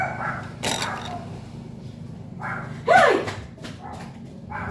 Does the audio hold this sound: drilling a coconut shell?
no